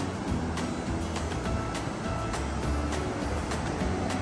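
Sea waves at a beach, a steady broadband wash of surf with repeated breaking surges, fairly close and continuous, no talking.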